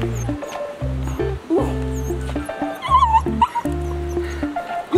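A dog gives a series of short, loud barks interspersed with high whimpering and yips, fairly close and agitated, with brief human voices mixed in.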